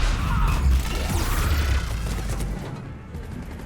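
Gunfire in the video game Mass Effect 3 crackles in bursts with crashing impacts and whooshing effects, loud at first and then fading into a dull rumble.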